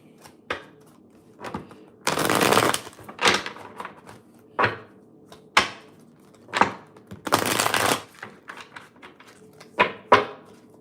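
Tarot cards shuffled by hand in repeated bursts, two longer riffling runs among sharp taps, snaps and knocks of the deck, close and dry with no talk.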